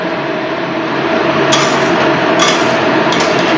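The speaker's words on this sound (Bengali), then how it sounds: "ভালো করে কষিয়ে নিচ্ছি এঁচড়টাকে।" Jackfruit curry being stirred and fried in a pan, a loud continuous sizzle with a few sharp scraping knocks from the spatula against the pan, close up and without speech.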